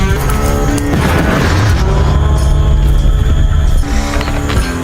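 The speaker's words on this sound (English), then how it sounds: "A huge explosion shakes the forest." A cabin explodes in a forest in a film scene, a loud, sustained rumbling roar with a deep low-end boom that fills the whole clip under dramatic music.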